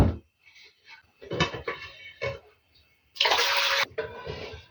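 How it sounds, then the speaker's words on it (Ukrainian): Water splashes and pours in a loud burst partway through, amid clinking and handling noises of glass jars as hot water is drained from them. "І так з усіх баночок зараз зіллю воду."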